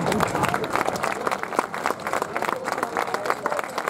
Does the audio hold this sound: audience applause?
yes